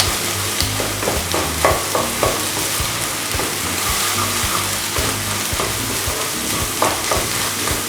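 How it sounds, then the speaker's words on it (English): Eggs are softly scrambled and broken into small pieces in a hot pan for restaurant-style egg fried rice, giving a constant loud sizzle with repeated scraping stirs throughout. "Just softly scramble it. And disintegrate it."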